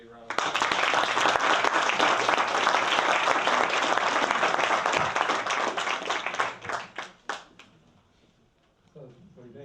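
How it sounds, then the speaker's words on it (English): An audience at a Startup Grind startup event in San Francisco claps and applauds loudly for several seconds, then the clapping thins out and fades to scattered claps before a voice begins. "Let's give these guys a big round of applause."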